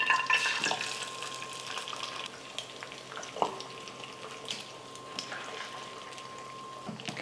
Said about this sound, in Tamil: எண்ணெய் நல்லா சூடேறினதுக்கப்புறமா 3 முட்டையை நான் உடச்சி சேர்த்துக்கிறேன்.